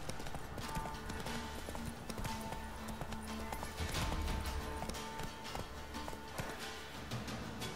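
Horse hooves clip-clop through dense video game audio from The Witcher 3: Wild Hunt, a steady rhythmic trotting over continuous music and ambience, with a loud thump midway.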